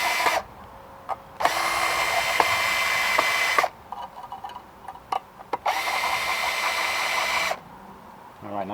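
A power drill runs in several bursts of a few seconds each, with short pauses and clicks between, while tightening fasteners on a post light outdoors, close and fairly loud.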